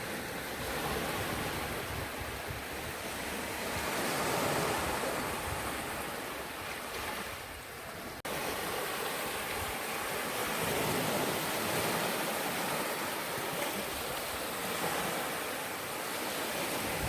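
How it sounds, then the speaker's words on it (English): Ocean waves wash steadily onto a beach at Port Maitland, Nova Scotia, a continuous close surf roar that swells and eases without any talking. "Look at those beautiful waves. And I love the sound of the waves too."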